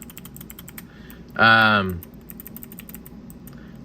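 A mechanical keyboard switch fidget toy being clicked, with crisp, quiet clicks scattered through the clip and one louder, fuller burst in the middle.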